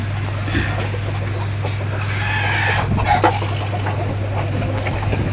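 Parent-stock roosters and hens on a small poultry farm, clucking and calling close by over a constant low electrical hum, with a crow rising in the middle.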